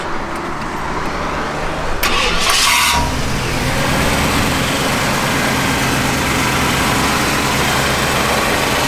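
A 1969 Ford XL engine turns over with a brief loud burst and settles into a steady, close, even idle that runs alone to the end.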